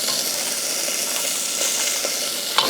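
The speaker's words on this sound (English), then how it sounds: "Garlic in, got our butter working around the onions." Garlic and onions sizzle in butter in a pan, with a close, steady crackling hiss and a few brighter pops toward the end. No voices are heard.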